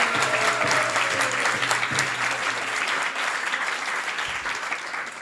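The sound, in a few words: audience applause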